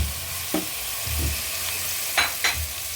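Okra added to a hot pan and stirred while sautéing for ginisang monggo, a Filipino mung bean stew, with a few short sizzling bursts and scraping stirs over a steady low frying hiss.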